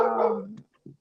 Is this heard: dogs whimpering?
yes